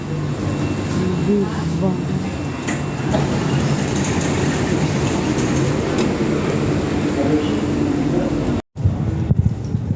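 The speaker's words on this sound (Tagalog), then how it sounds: "Yun yung train sa kabila." A train runs past on the other side near a UAE city park, a steady loud rumble filling the scene, with a person's voice briefly heard over it before a short dropout.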